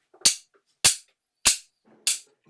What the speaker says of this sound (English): I've got some wooden coasters, you know, the little mats that you put your drink on